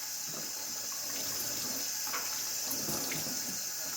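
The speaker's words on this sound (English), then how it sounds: "So let's go ahead and rinse that soap off." Water runs steadily from a tap into a sink while soap is rinsed off hands, a soft continuous hiss and splash with faint irregular spatters, heard alone at low volume.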